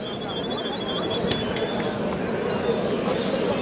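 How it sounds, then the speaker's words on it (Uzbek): Small songbirds, canaries among them, sing at an outdoor bird market in Namangan, a busy layer of chirps and trills over a steady crowd murmur, with voices talking nearby. "Traniklar sayrab turibdi."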